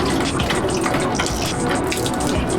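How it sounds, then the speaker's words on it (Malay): A little water poured onto aquarium glass for a floating magnetic glass cleaner, pouring and splashing steadily at close range, a continuous wet gushing sound throughout. "Kita try letak air sikit."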